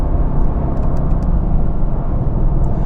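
Mercedes-AMG GT convertible with a twin-turbo V8 cruising on a highway, a steady low engine drone with road and wind rush, heard from inside the car with no voices.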